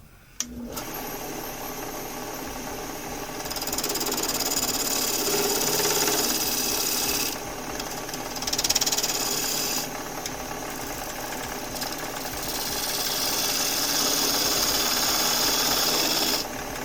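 Wood lathe spinning a workpiece while a spindle gouge cuts it, a continuous motor whir with bursts of hissing, scraping cuts that swell and fade in several passes, close and loud.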